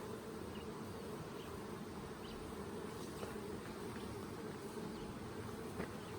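Honey bees swarm around an opened hive during commercial hive management, their dense, steady buzzing drone filling the whole stretch close by, with no talk over it.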